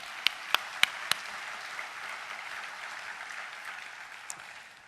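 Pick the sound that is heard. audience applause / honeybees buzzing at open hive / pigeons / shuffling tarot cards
audience applause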